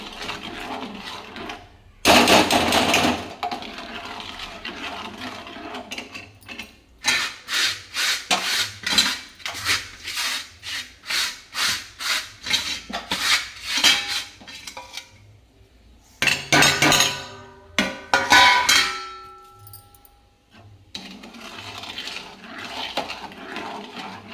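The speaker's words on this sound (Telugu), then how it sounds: "కొద్ది కొద్దిగా వేసుకొని వేసుకొని మనం ఇలా కలిపేసుకోవాలి" Karachi semolina sugar halwa is worked in a pan with a spoon, giving rhythmic scraping and rubbing strokes in bursts with pauses between, close and moderately loud, along with a few metallic clinks.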